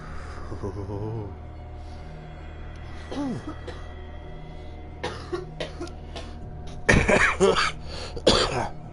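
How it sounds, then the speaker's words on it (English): A few harsh coughs near the end, loud and close, standing out over a quiet steady hum and some faint earlier noises. "you weren't supposed to start coughing and dying on me too"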